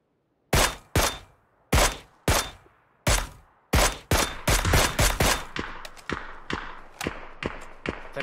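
Gunfire in a shooter video game: a series of sharp, loud single shots spaced about a second apart, then a faster run of rapid shots that grow slightly quieter toward the end, with no talk over them.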